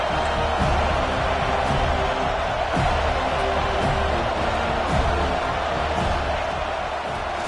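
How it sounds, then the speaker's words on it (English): Stadium crowd in the College Football 26 video game, a steady dense roar of cheering fans that stays constant and loud throughout, with no voices standing out. "This crowd knows when to bring it."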